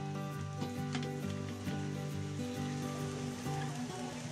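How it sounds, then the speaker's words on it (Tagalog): Pork leg (pata) sautéing with annatto for kare-kare gives off a steady, close sizzle with soft stirring scrapes, and the frying hiss continues evenly without talk. "Gisa lang po natin."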